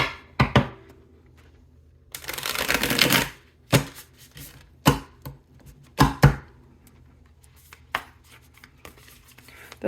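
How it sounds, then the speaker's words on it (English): Tarot deck being shuffled up close, with a dense rustling burst of cards in the middle flanked by sharp taps and knocks of the deck settling against a surface, no talking. "Let's get a little shuffle going."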